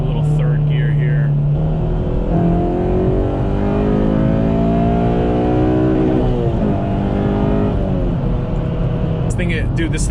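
A Honda JDM K24A four-cylinder engine revs hard in third gear, its note climbing in pitch and bouncing off the rev limiter, loud and close, with a brief voice at the start.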